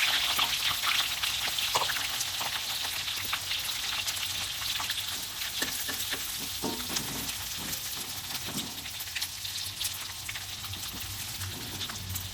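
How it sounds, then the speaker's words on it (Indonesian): Salted fish frying in hot oil, a steady close sizzle with dense crackling pops and spits that continues throughout, loud and without talk. "terakhir nanti kita goreng si ikan asinnya"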